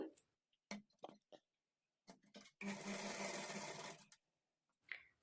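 A sewing machine stitches a blouse hemming strip, starting with a few short clicking bursts and then running in one steady whirring stretch before stopping, quiet and close.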